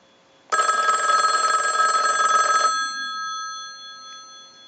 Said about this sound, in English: we want to ring the telephone, so we'll go ahead and start a ring cycle